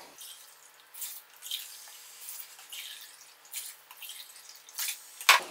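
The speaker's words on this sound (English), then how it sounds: "so now I'm going to add 4 cups of water" Four cups of water are poured into a cooking pot for a satay vegetable dish, a soft, intermittent splashing and trickling that comes in short bursts, fairly faint and close.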